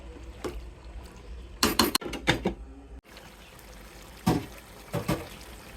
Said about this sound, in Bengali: ঢাকনাটি খুলে এবার আবারও দিয়ে দিব